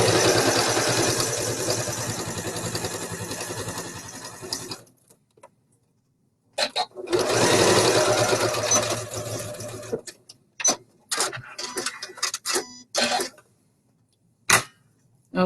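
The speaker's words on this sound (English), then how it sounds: "And I'm sewing just a smidget below my original welt stitching." A sewing machine stitching a double welt pocket, running in a long steady whirring burst, pausing, running again, then giving way to short stop-start bursts and handling clicks.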